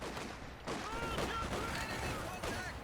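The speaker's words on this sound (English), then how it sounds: "there comes a howitzer barrage, 105 howitzer barrage" Artillery barrage from a 105 howitzer in Company of Heroes 2, a dense burst of overlapping blasts and rumbling impacts, loud and continuous over about three seconds with a commentator talking over it.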